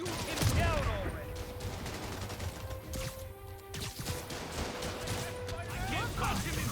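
Bursts of gunfire from enemy thugs in Marvel's Spider-Man, crackling steadily through a busy game mix with music, impacts and voices talking over it.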